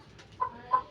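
A sick, quarantined chicken with a snoring respiratory illness and chalky droppings gives two short, faint clucks about a third of a second apart.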